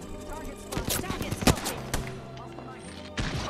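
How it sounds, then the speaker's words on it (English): Rapid gunfire striking a player in Apex Legends, a cluster of sharp close shots with one loud crack in the middle, followed by scattered impacts and a final burst. "I got shot."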